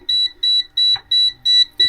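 Propane leak detector alarm in a truck or RV beeping in a steady repeating pattern, six loud electronic tones about a third of a second apart, with a faint clunk partway through.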